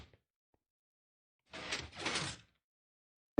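In Minecraft, a lever swings a door shut: two quick wooden clunks in close succession, near and clear, then silence with no talking.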